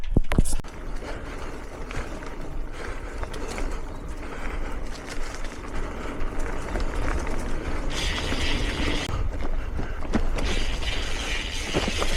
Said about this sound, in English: And this is the crawler tractor.